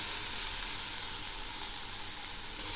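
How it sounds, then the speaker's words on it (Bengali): Ridge gourd slices fry in oil in a pan, giving a steady, even sizzle and hiss that holds at one level throughout, with no talk. "এর মধ্যে আমি দুটো ঝিঙ্গে কেটে নিয়েছি, আর এগুলি বেশ কিছুক্ষণ ধরে ভাজবো।"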